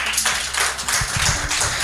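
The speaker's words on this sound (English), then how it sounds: "give a very good round of applause to all the organizers of this platform" Event audience applauding the organizers, with loose clapping and tapping mixed with crowd noise and a low hum, fairly close and continuous.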